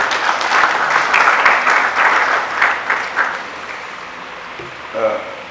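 Audience applause at a church gathering, a burst of clapping from many hands that rises, holds for a few seconds, then fades out, followed by a voice speaking.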